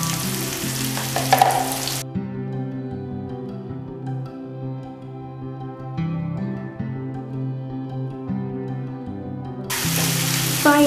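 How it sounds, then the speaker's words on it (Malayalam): Ginger garlic paste fries in hot oil in a pan, a loud continuous sizzle close by, with a brief burst of stirring at the start and again near the end. "ഒരു ടേബിൾ സ്പൂൺ ഇഞ്ചി വെളുത്തുള്ളി പേസ്റ്റ് ഇട്ട് കൊടുത്തിട്ടുണ്ട്"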